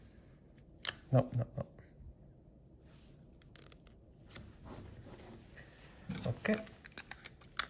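Scissors snip through fabric for sewing pattern pieces of a bustier dress, a few close crisp cutting bursts near the start and another cluster near the end, with quiet handling between and brief speech.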